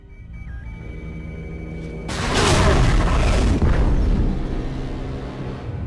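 A tunnel detonation in the video game BioShock 2: Minerva's Den. It erupts suddenly after a low droning hum, then becomes a loud, sustained roaring rumble that slowly fades, with no speech.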